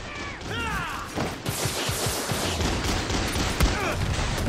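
Rapid bursts of gunfire in the Far Cry 6 video game crackle steadily over several seconds with a loud, dense, continuous edge, and a voice speaks briefly near the start.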